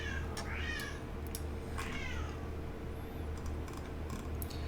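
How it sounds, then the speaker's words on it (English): A cat meows several times, drawn-out rising and falling cries that sound almost pained, heard over a constant low engine-like drone from a flight simulator running in the background. "It may sound that the cat is in pain."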